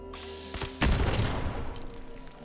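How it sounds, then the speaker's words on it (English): Fireworks from the Far-flung Fireworks perk go off in Fallout 76, a sharp crack followed by a loud booming burst and crackling rumble that trails away, heard close with no talking. "Far-flung fireworks. Do your thing."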